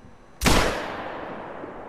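A rifle shot fired in the hunting game theHunter: Call of the Wild, a single loud, sharp blast followed by a long rolling echo that slowly fades, with no talking.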